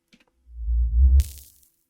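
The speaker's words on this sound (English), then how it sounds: "For the drop here, I used this sort of reverse sub reverb layer, or transient" A reversed sub-bass reverb layer swells up from silence into a deep booming rise, then snaps into a bright, airy noisy tail as the drop hits before fading out within about a second.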